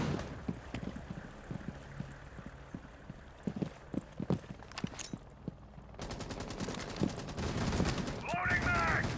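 Rapid rifle fire from Rainbow Six in a series of quick, sharp shots, first in a loose irregular burst and then in a denser rattling run, with other game sounds mixed in and a voice talking over part of it.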